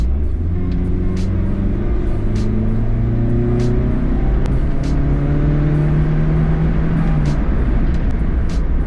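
A small 1.5-litre race car engine revs hard and climbs through the gears, pitch rising and dropping repeatedly, loud and close throughout with no talking.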